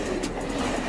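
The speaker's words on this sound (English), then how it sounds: "Diesel train." A diesel train rolls by at close range, a steady dense rumble of wheels and engine filling the brief moment without pause.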